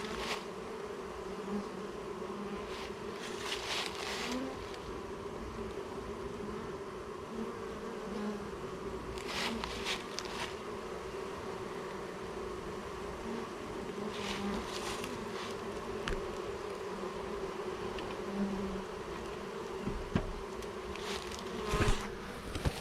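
Steady, faint buzzing of many bees close by, a continuous drone with occasional louder passes of individual insects.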